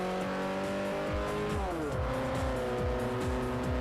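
Race car tires squealing through a corner in Forza Motorsport 4, a steady engine drone carrying sweeping, sliding pitch lines as the car drifts near and loud, with no talk over it.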